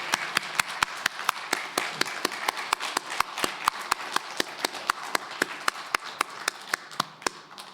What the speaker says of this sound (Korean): 위대하신 하나님 앞에 우리도 힘찬 박수로 영광 돌리겠습니다.